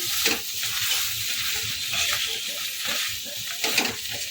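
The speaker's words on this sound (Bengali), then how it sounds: "ভালো করে নাড়াচাড়া করব" Onion-stalk and softened fried eggplant curry with melted tomato being stirred in a pan, steady close sizzling with bursts of scraping and moist shuffling, continuous and fairly full, with no voices.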